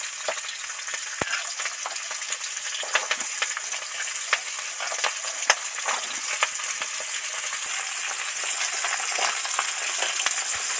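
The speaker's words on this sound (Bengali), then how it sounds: "এবার তেলের মধ্যে সবার আগে পেঁয়াজ কলিটা উঠিয়ে দেবো" Onion stalks fry in hot oil for a mixed-vegetable labra dish, giving a steady, dense crackling sizzle throughout with scattered small pops and occasional stirring scrapes, fairly close and with no talking.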